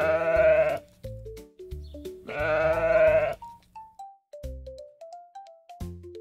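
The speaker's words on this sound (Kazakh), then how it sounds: "қой," Two long loud bleats from a sheep, separated by a short series of tonal melodic notes, with more notes following after the second bleat.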